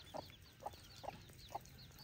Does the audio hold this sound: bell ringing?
no